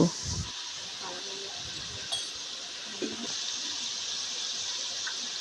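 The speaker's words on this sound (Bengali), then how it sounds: "মাংসগুলোকে মশলার সাথে একটু সময় নিয়ে সুন্দরভাবে ভেজে নেব" Chicken pieces fry with spices in a pan for rice noodles, giving a steady loud hiss and sizzle throughout, with a few faint clinks and scrapes near the start and around the second and third seconds.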